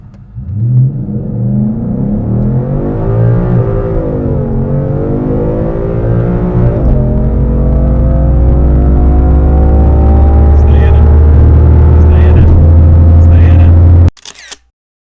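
A Ford Mustang S550 fitted with an MSD two-step launches hard on a timed run, its engine climbing loud and close through several gear changes before cutting off abruptly near the end.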